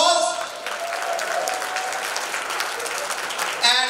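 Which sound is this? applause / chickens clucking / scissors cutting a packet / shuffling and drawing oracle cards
applause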